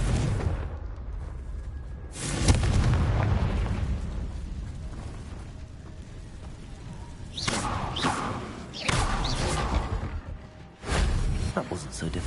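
Explosion spells from Hogwarts Legacy go off in several booming bursts with crackling debris and thuds, spaced a few seconds apart over low ambient game noise, with speech in the clip.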